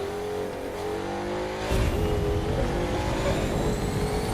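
Volkswagen car with wooden interior trim driving in The Crew 2, a steady engine drone that swells into louder acceleration midway and holds a rough, revving roar, with no talking.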